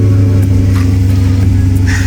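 A 2011 BMW X5 50i E70 with its twin-turbo V8 idles loud and steady right after starting, a deep constant rumble that does not change through the short stretch.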